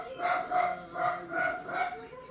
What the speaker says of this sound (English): his dog's going crazy